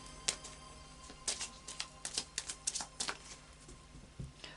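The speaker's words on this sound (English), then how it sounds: "I'll just do a final shuffle of the Moonology cards" Moonology oracle cards being shuffled by hand, a quiet run of soft, rapid papery riffles and taps in uneven bursts, close up with no talking.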